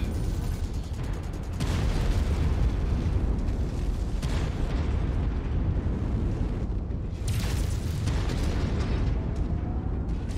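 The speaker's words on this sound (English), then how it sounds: "Explosion detected." Explosions rumble and burst in MechWarrior 5: Mercenaries combat, a loud, dense, continuous roar of booms and blasts with sharper surges through the middle and later part.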